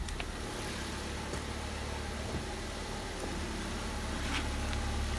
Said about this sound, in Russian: Работа двигателя стабильна.